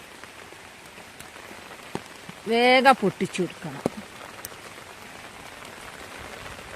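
Heavy monsoon rain pours steadily over a vegetable garden during harvesting, a constant hiss of drops on leaves and surfaces, while a person speaks briefly midway.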